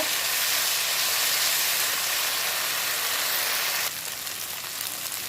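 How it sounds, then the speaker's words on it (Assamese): Fish fries in a pan of hot oil for a fish curry, giving a loud, continuous sizzling hiss close by that eases slightly near the end, with no talking. "এনেদৰে 5-10 মিনিট সময় ভাজি ল'ব।"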